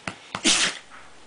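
A single sharp human sneeze, preceded by two quick inhaling catches, bursts out close and loud before fading into quiet.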